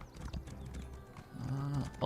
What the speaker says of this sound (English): Dude's horse made a scary-ass noise.